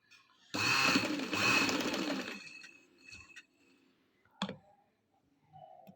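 Sewing machine stitching fabric while lace is fitted along a slit, two loud close bursts of fast stitching, then quiet with a few small clicks and taps of handling.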